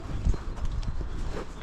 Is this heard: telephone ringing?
no